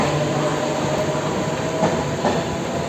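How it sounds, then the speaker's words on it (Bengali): A train pulling into a railway station at night, its steady rolling rumble and rail noise filling the scene continuously and loudly, with faint wheel clatter rising near the end. "আর এই একটা ট্রেন আসলো"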